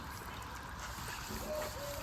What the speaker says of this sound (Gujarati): દાદા પાણી પાય છે.